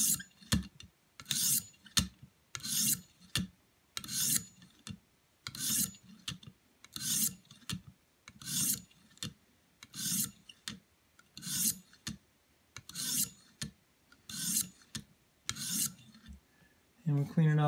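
A blade being sharpened on a 600-grit stone to remove the burr: steady, rhythmic rasping strokes, roughly one per second, close and distinct with short pauses between passes.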